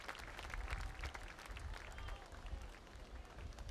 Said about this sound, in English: Opposing athletes, everybody standing up and applauding the effort.